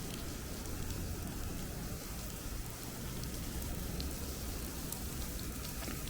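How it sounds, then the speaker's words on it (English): Heavy rain pours onto the Coney Island boardwalk by the beach, a thick, unbroken roar of falling water and spatter that stays even and close from start to finish, with no talking. "It's a good place to stop just so you can hear the rain."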